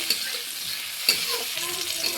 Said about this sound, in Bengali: এবার করলাটাকে লাল লাল করে ভেজে নেব